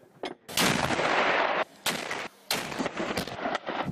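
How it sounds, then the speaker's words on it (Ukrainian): Artillery fire at a war front, several loud booming blasts in quick irregular succession with sharp cracks and rumbling decay, close and dominating, no voices. "Це наша артилерія зараз не наша."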